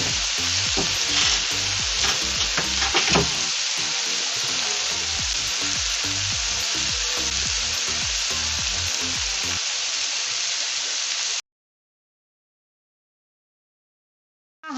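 Egg curry masala sizzles loudly in a pan while being stirred, a dense steady hiss with scraping utensil knocks, running unbroken for about eleven seconds before dropping to silence.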